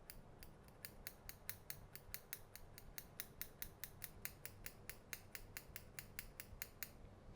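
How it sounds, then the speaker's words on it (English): Small scissors trim a beard, snipping in a quick, steady rhythm, dozens of crisp close-up cuts repeating at an even pace with no talking. "I like to use my little scissors on my beard"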